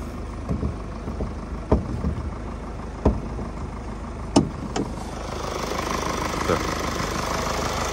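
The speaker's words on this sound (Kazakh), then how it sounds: "азыр көрүп атасыңар үнүн. Эч кандай лишний звук жок моторунда." A Mercedes diesel engine from 2018 idles with a steady low rumble, punctuated by a few sharp clicks and knocks, then grows slightly louder toward the end.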